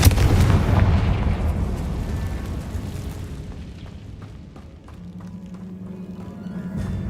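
A Confringo explosion spell in a Harry Potter video game bursts with a heavy, booming blast up front, then rumbles and decays into a lower fading roar, with no talk over it.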